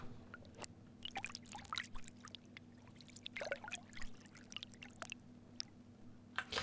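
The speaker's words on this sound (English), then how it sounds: "it's already kind of broken up into very short little fragments, these little droplets of water" Water broken into very short droplet-like fragments by automated sudden changes, giving scattered sharp drips and trickles over a steady low hum, fairly close and moderately loud with no voices.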